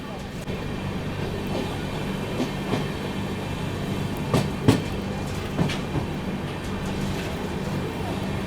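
An LTT Mumbai–Bhopal superfast express train rolls along with a steady low rumble and rail noise, a few louder clanks and clicks standing out midway as it slows.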